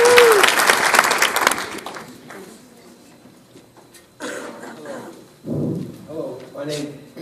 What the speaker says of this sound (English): let's give a big hand clap for Kevin.